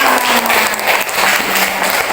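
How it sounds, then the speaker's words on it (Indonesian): Children in a classroom clap together, loud and close: a dense, lively burst of many small hands that keeps going for about two seconds, with a faint hum of voices underneath. "Iya, tepuk tangan."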